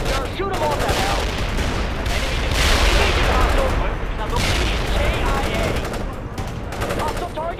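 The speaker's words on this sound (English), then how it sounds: "Aim your rifle! Shoot him off that house!" Dense rifle and machine-gun fire in the video game World in Conflict, continuous loud bursts and booms with shouted voices mixed in.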